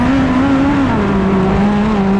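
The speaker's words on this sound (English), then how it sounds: "Now I tie the right rear down and I'm just kind of feeling the car out while I adjust it." A race car runs on a track with a loud, steady engine drone heard close from the cockpit, its pitch sagging slightly as the driver eases through a practice lap.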